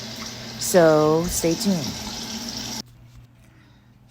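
Water runs steadily from a tap while a clay face mask is rinsed off. The rushing sound stays up close under a woman's speech, then cuts off abruptly, leaving near silence.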